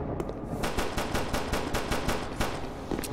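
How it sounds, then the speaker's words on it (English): Gunfire in the video game SCP: Secret Laboratory, heard as rapid automatic shots in a steady, evenly spaced burst, loud and close, with no voices. "Alright, just go to the gunshots."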